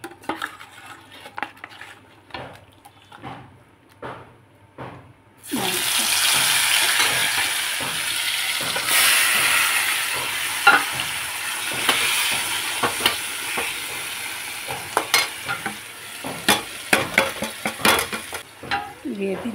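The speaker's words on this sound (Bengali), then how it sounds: "এখন এই মাংসটাকে ভালো করে কষিয়ে নেব" Mutton with spices being stir-fried in a pan: a few soft clinks and taps first, then a loud, steady sizzle takes over, broken by repeated metal scrapes and clatters from the stirring spoon.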